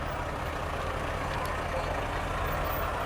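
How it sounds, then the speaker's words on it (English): A 1975 Corvette rolling past in a high school homecoming parade, a continuous loud engine rumble with broad road noise and no clear rise or fall as it passes. "Got a 1975 Corvette that comes through here."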